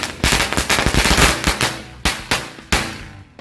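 Matchbox firecrackers (mercon korek) set off outdoors for Lebaran celebrations, a loud rapid string of sharp cracking bangs that thins out into a few separate pops near the end.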